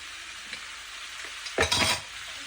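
Carrot, mango and chickpea sundal in a pan with a steady soft frying hiss, broken near the end by one brief, louder scrape-and-sizzle burst as the mixture is stirred.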